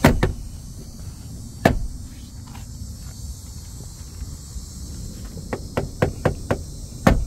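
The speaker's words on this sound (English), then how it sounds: "Push this rail down, it'll lock it in place." A 2021 Honda HR-V Sport AWD rear seat is lifted and its rail pushed down to lock. Sharp plastic clicks and knocks are heard, a few spaced apart, then a quick cluster near the end over a low hum.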